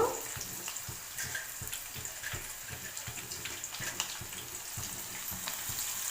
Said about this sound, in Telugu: ఇవి త్వరగానే వేగిపోతాయండి మరుగున నూనెలో వేయడం వలన